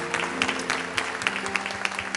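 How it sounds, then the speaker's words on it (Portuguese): Church congregation clapping during worship, with sharp individual claps standing out above a sustained background drone or music, moderately loud and somewhat irregular. "Aplauda o Senhor."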